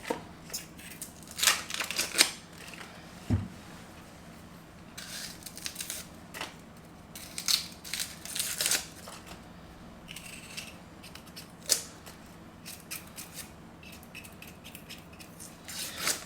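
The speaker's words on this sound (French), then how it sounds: "on enlève la tête de l'oignon, on coupe au pied, comme ça, et on épluche." Papery onion skins are peeled and torn in a kitchen, with dry crackles and rustles coming in bursts, close and fairly soft, plus one knock.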